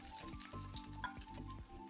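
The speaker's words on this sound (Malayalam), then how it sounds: "ഒരു ടേബിൾ സ്പൂൺ വെളിച്ചെണ്ണ ഒഴിച്ച് ഒരല്പം കടുക് ഇട്ട് കൊടുക്കുക." Mustard seeds pop and sizzle in a tablespoon of hot coconut oil for a Kerala banana-flower thoran, a steady close crackle with fizzing bursts and no talking.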